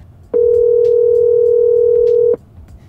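A steady telephone tone sounds on the line while calling a friend, a single sustained electronic beep of about two seconds, clear and alone before the voicemail message.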